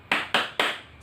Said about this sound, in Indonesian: Bagaimana kalau kita tepuk semangat dulu?